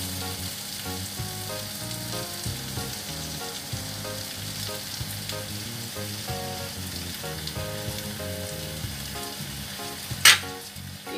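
Beef skin (kikil) frying in a pan with sweet soy sauce, stirred steadily, giving a constant loud sizzle with scraping stirs throughout and one sharp clack near the end.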